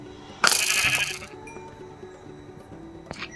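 A sheep bleats in the Minecraft video game, one loud blocky bleat near the start followed by a shorter faint cry near the end, over quiet background game ambience.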